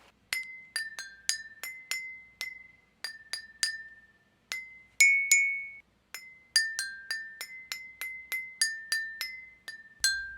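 Water-filled drinking glasses struck one after another, each giving a bright, clear ding that rings and fades, played as a quick melodic run of about two dozen notes at a few different pitches, close and alone.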